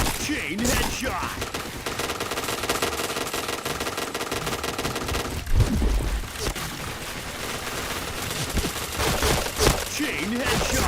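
Rapid automatic gunfire rattles in a shooter video game, dense bursts with heavy thuds and impacts throughout, loud and continuous, under a voice speaking over it.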